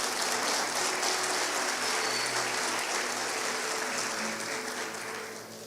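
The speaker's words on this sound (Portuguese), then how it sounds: "Vou aplaudir." A crowd breaks into sustained applause, dense clapping that is loud at first and slowly fades toward the end, with no talk.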